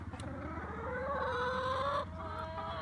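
Backyard hens clucking in a freshly cleaned coop lined with shavings, a close, steady run of low murmuring clucks with a rising drawn-out call in the middle.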